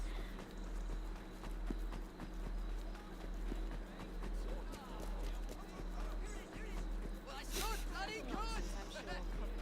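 Horse hooves clip-clopping in a steady running rhythm in Assassin's Creed Syndicate, a continuous mid-level patter under a low engine-like hum, with people talking over it throughout.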